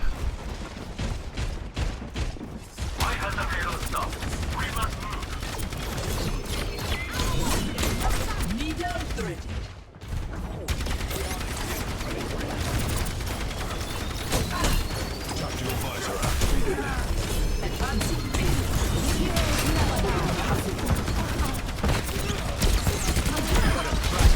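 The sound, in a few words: gunfire shooting at a turret in the video game Overwatch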